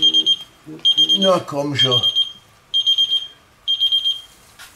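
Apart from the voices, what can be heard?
GrillEye Pro+ grill thermometer temperature alarm beeping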